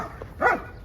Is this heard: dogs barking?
yes